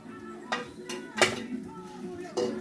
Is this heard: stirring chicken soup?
yes